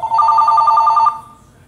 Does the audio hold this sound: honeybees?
no